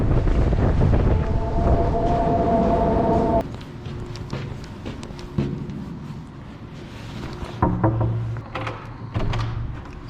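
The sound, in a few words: strong wind during a heavy snow storm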